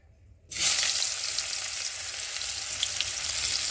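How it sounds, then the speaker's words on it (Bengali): Onions dropped into hot oil in a kadai where fish was just fried, bursting into a loud sudden sizzle that settles into steady close frying, with no talk. "আর এখন আমি পেঁয়াজগুলো দিয়ে ভালো করে ভেজে নেব"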